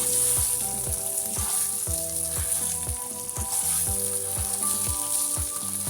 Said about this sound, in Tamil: இது நல்லா ரோஸ்டட் நிறமாக வர மட்டும் நீங்கள் பொரிச்சிட்டுடுங்க.